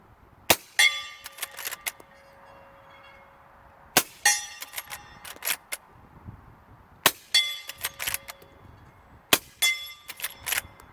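A Henry Big Boy X Model .357 rifle fires outdoors. There are four sharp, separate reports with a ringing, clanging tail, spaced a few seconds apart, and quiet background between them.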